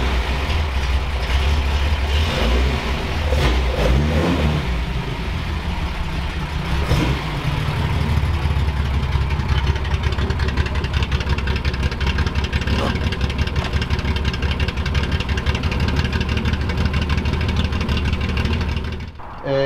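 A 1973 Datsun 240Z engine runs loud and close throughout, a steady low rumble with rising revs as the car is driven out, before cutting off at the end.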